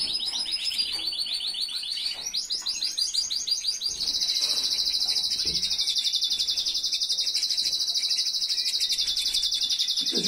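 A caged canary-type songbird sings close by in long, rapid trilling runs, shifting pitch and then holding a fast, piercing warble.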